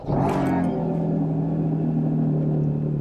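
Porsche 718 GT4 RS Weissach engine catching with a sharp start-up rev, then settling into a loud, steady, deep idle close by, with no talking.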